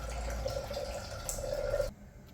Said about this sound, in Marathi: आता यात 1 कप पाणी टाकून आपण सगळ्या डाळी शिजवून घेऊ